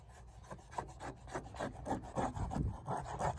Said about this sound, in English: Sanding that motherfucker down